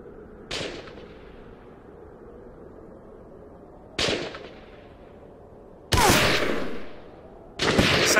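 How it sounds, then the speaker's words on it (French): Gunshots ring out in Battlefield 2: Modern Combat: four sharp, loud reports, the first two spaced far apart and the last two closer together. Each one decays with a long echoing tail over a quiet ambient bed. "Ça tire dans tous les coins."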